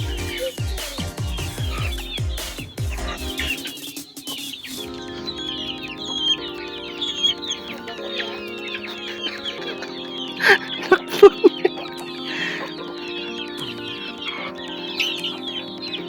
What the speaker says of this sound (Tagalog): Damo free range yung mga manok